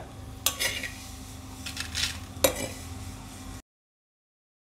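Roasted vermicelli is scooped out of a kadhai, giving a few sharp metallic scrapes and clanks of a spoon against the pan over steady low cooking noise, followed by abrupt silence.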